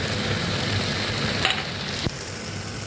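Prawns going into a hot pan with green chilli and mustard paste after fried vegetable stems, a steady close sizzle with a couple of brief clicks and a stir, no talking.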